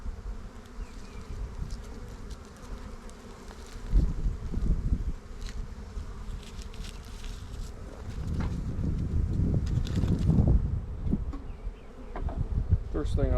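Honey bees buzz loudly and steadily inside an overwintered hive colony during an inspection, a dense close humming swarm that swells in bursts with faint rustling and handling noises underneath.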